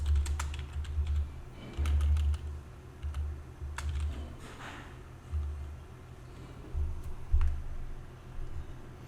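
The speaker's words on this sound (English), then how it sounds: "I'm going to start with type in download more RAM" Someone types on a computer keyboard in quick, uneven bursts of close clicking keystrokes over a low steady hum, with short pauses between the bursts.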